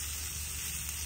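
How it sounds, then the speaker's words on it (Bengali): Porgy fish frying in a pan at a campsite, a steady, even sizzle of hot oil that holds at the same level without a break and with no talk over it. "মাছ ভাজা হচ্ছে, পরগি মাছ।"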